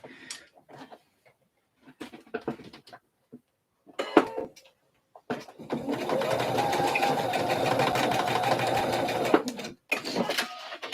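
A sewing machine stitching a slip dress, heard first as scattered clicks and handling, then one long, steady, fast run of stitches up close before stopping.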